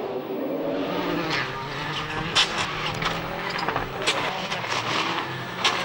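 GT rally cars in a Belgian championship rally, Nissan among them, pass with a steady engine roar mixed with crowd noise and a few sharp bursts, heard from a spectator distance with a voice briefly over it.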